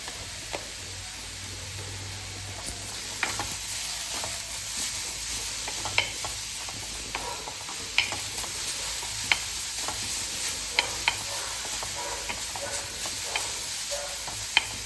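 Food sautés in a pan as it is stirred, a continuous close sizzle broken by a series of sharp scraping and tapping strokes from the spoon.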